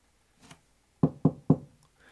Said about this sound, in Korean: 늑대가 문을 두드리자